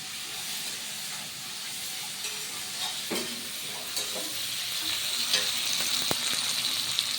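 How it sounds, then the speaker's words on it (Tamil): Onions fry in a pan for a chapathi kurma, giving a steady close sizzle and hiss with scattered crackles and faint stirring clicks, growing slightly louder toward the end. "வெங்காயம் நல்லா வதங்கிடுச்சு"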